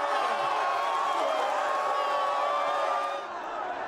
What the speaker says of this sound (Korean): 러시아 현지에서 스웨덴전을 보던 멕시코 관중들도 한국을 외칩니다.